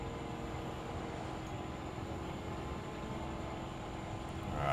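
A train rolls along rail tracks in the World War I flight game Wings Remastered, a steady low rumble with a constant broadband hiss heard from aircraft height, growing slightly louder toward the end, with no voices.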